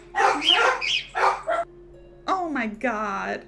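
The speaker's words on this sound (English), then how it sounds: "there's a dog barking outside" A dog yips and barks in short bursts, mixed in with voices and an exclamation, fairly close and loud against a quiet background hum.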